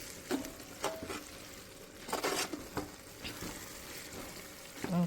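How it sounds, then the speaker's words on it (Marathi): Four kilos of onions roasting in a pan for Kolhapuri onion-garlic chutney give a soft, close sizzle broken by scattered crackles and a few scraping stirs, fairly quiet and with no talking. "तो हा कांदा आता भाजत आलेलाच आहे"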